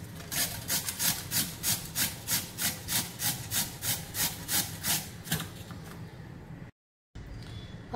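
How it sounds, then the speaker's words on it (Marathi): Cucumber rubbed against a grater in a steady run of about a dozen rhythmic rasping strokes, close and fairly loud, stopping briefly before a short pause and quieter scraping. "इथे मी किसून घेते।"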